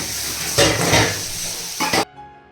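Boiled eggs frying in oil with chilli powder, a steady close sizzle broken by a couple of louder stirring bursts before cutting off abruptly.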